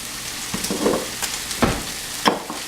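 Ingredients for kothu parotta sautéing in a pan, with a soft steady sizzle broken by a few sharp scrapes and clatters from stirring, close and moderately loud with no talking.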